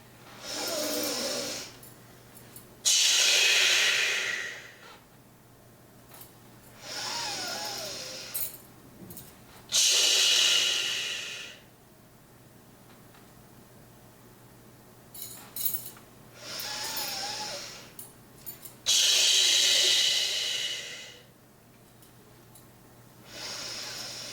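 Slow, deep breathing during a guided meditation, with long hissing inhales and exhales repeating in a steady cycle roughly every few seconds, close and clear over a faint low hum.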